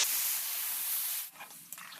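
Hot water poured into a pan of frying soybean curry makes a loud, close, rushing hiss that holds for over a second and then fades into softer bubbling and a few small clinks.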